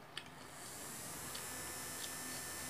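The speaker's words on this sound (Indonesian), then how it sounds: "Kipasnya maaf ya, guys, berisik." An electric fan runs indoors with a steady, noisy whirring hum, faint and continuous, with a few small clicks near the start.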